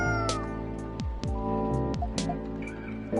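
A stray cat in the game Coffee Talk 2 gives several short, clear meows that slide downward, heard up close over a soft, steady musical background.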